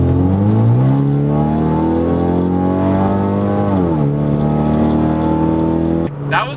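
A Ford Mustang fitted with a 3-inch turboback exhaust revs hard and close, its engine note climbing in smooth sweeps, dipping, then rising again before cutting off abruptly.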